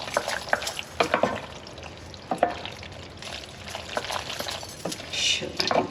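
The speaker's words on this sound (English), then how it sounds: "Let's give that a stir" A spoon stirs shrimp and crab mac and cheese in a pot, giving repeated soft scraping and wet sloshing strokes at close range over a faint sizzle, with some talking mixed in.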